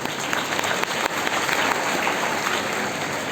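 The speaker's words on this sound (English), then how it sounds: "Give them a round of applause." Steady, dense applause from an assembled audience at a school Independence Day celebration, honoring group singing students and teachers; continuous clapping fills the whole stretch at an even, loud level with no talk.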